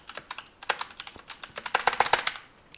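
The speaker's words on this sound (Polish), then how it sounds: "moja klawiaturka jest głośna" Rapid clattering keystrokes on a loud computer keyboard, close and dry, in uneven bursts that speed up toward the end, with no voices over them.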